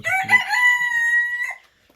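A rooster, kept with other Cochin bantam cocks in a separate aviary pen, crows once: a loud, close, harmonic call lasting about a second and a half that rises, holds and then stops sharply.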